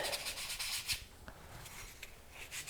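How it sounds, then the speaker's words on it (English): Flexible bronze clay being sanded by hand gives a soft, faint rubbing rasp in short repeated strokes, close and quiet, with no voices. "I'm going to sand it around"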